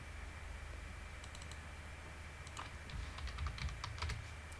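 Quiet clicking of keys on a computer keyboard while code is typed, with soft irregular taps that thicken into a denser run toward the end over a steady low hum.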